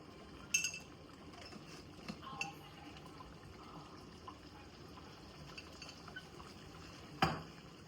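A spoon clinks and scrapes against a pot while mutton kaju masala curry with ghee is stirred, with soft wet stirring sounds between a few faint, close metallic knocks.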